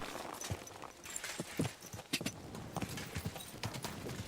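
Horse hooves clip-clop at a steady trot along a road at night in the video game Kingdom Come Deliverance II, clear and rhythmic with no talk.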